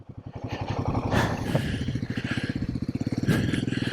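A Royal Enfield Himalayan 452 motorcycle rides over rocky rivers and rough roads, its single-cylinder engine thumping in a steady pulsing rhythm, close and loud, with clattering from the rough terrain.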